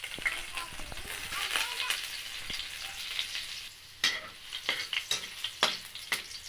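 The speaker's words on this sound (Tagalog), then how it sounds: "Ayun guys, ilalagay naman natin yung bawang." Finely chopped garlic sizzles steadily in hot cooking oil for an okra adobo, with a continuous frying crackle broken by brief stirring clatters and spoon knocks toward the end.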